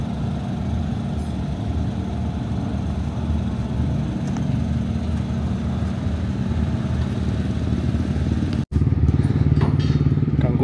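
Rally motorcycles at the Dakar 2024 bivouac camp: a continuous close, throaty engine rumble and idle drone with a brief cut near the end, then the engine noise resumes with a harder revving burst.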